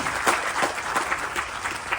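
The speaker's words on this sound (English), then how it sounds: "And that deserves a round of applause." An audience applauds at a Ganesh Chaturthi celebration, a steady burst of clapping throughout.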